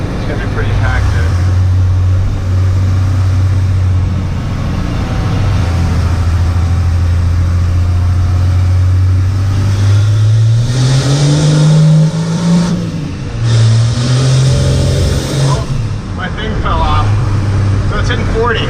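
A first-generation Cummins diesel truck revs and accelerates under heavy turbo boost, the engine note climbing and dropping in loud surges close by, with people talking over it.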